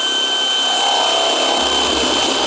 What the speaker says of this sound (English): start our drill bit, and we're gonna have a perfectly clean, perfect hole